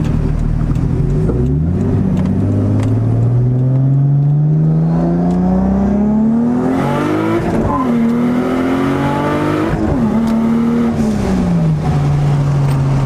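Loud turbocharged Toyota Supra Turbo engine with a 6766 turbo kit revving up through the gears under boost, pitch climbing steadily with a brief dip at each shift, accelerating hard and close by.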